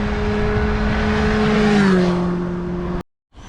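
A motorbike engine drones steadily while riding, its pitch dipping slightly midway, then cutting out abruptly near the end.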